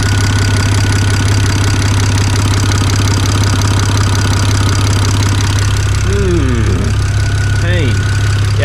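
A built BMW 335i with the N54 engine idling with an exhaust leak, a loud, steady, close rumble with a ticking, pulsing texture throughout, and a brief voice-like sound near the end.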